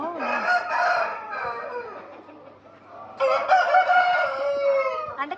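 A fighting rooster crows loudly and close by, two long drawn-out calls separated by a short pause.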